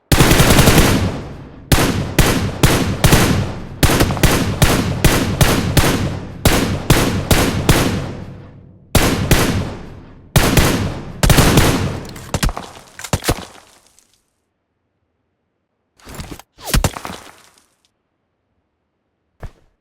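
Gunfire in the mobile shooter PUBG Mobile: loud, close automatic bursts and clusters of shots fill the first half, ease into sparse cracks, fall silent, then return as a few brief distant bursts.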